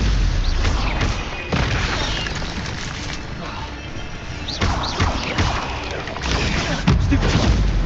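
Stupefy spell blasts in the video game Hogwarts Legacy, a rapid series of booming, crackling impacts amid dense battle noise, loud and close, repeating every second or so with no clear pause.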